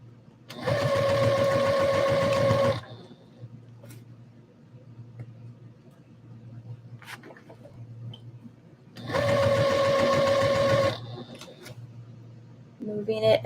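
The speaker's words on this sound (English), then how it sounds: "And then sew it down." A sewing machine stitches fabric for an Etsy order in two close, steady whirring runs of about two seconds each, separated by a quiet pause with faint handling noise.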